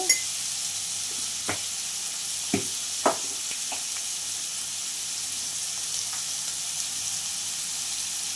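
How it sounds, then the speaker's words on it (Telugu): Ginger paste, turmeric and salt fry in a pan for jackfruit seed curry, giving a steady soft sizzle with a few sharp clicks of stirring near the start and no voices. "సాల్ట్ 1 స్పూను, వీటన్నింటినీ మంచిగా ఫ్రై చేసుకోవాలి"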